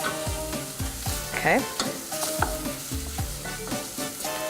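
Onions and parsley fry in a pan, a lively sizzle broken by repeated scraping and stirring strokes, close and fairly loud, with a brief spoken word partway through.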